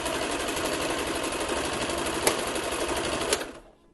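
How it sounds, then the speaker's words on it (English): A sewing machine stitches along the edges of a fabric mask, running with a fast, even mechanical whir and needle clatter that stops near the end, close and alone. "I'm sewing along the bottom edge of the mask and then the top edge."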